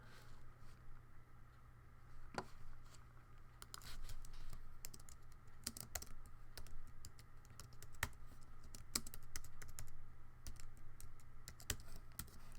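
Someone types slowly on a computer keyboard, a faint, uneven patter of key clicks with pauses between bursts, close by and alone with a low background hum.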